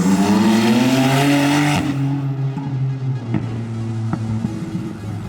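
A car with a flame tune and open dump exhaust revs loudly close by, the engine roaring high then dropping off into a rumbling idle with a few sharp pops.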